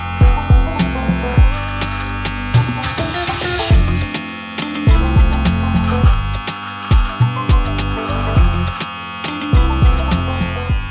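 An electric beard trimmer buzzes steadily up close during home grooming, its loud motor hum broken by repeated short bursts and dips as it is pressed and lifted while trimming the beard line.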